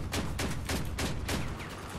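Whirlwind cannons in the combat game Crossout firing in a rapid, evenly spaced volley of about seven heavy shots over two seconds, loud and close with no voices.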